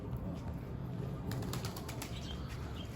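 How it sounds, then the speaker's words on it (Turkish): Mardin pigeons taking off and flying, a burst of flapping wings over a steady low outdoor rumble, with a few sharp wingbeats in the middle. "Alışma faslı olduğu için bu kadar kuş uçuruyoruz"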